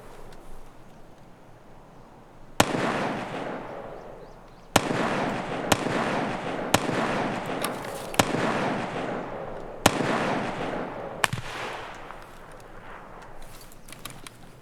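Gunfire in Escape from Tarkov, a handful of sharp, loud shots spaced irregularly over a steady background hiss, with no talk.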